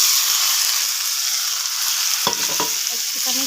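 Boiled jackfruit fries with potatoes in a pan, a loud constant hissing sizzle up close, with a few clattering stirs near the end.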